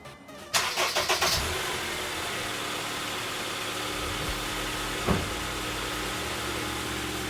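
A car engine, just jump-started with a NOCO GB40 booster pack, cranks briefly with a few rapid chugs, catches and settles into a steady close idle with a faint hum, no voices.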